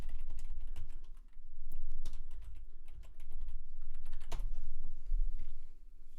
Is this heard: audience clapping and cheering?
no